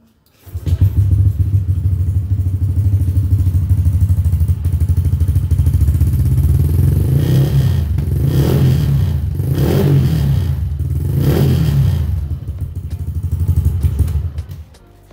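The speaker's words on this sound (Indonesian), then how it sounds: "knalpotnya sekarang kita pakai Shijiro yang tipe Opel. Kita dengerin aja langsung suaranya kayak gimana ya kan." A Yamaha Nmax scooter fitted with a Shijiro Opel-type aftermarket exhaust idles with a loud, deep burbling drone up close, then is blipped through three rising revs before settling back to idle.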